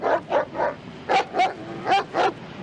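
A dog barks in short evenly spaced bursts, about seven sharp woofs in two clusters, close and clear with no talking over them.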